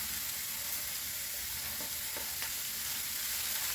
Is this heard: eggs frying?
yes